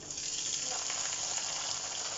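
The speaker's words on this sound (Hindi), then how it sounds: "अब इसमें डाल देती हूँ हरी मिर्च।" Green chilies tossed into lightly browned onions frying in a pan for a beetroot dish, giving a steady, close hiss of sizzling oil that holds even throughout with no talk.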